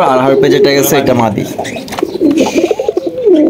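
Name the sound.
pigeons cooing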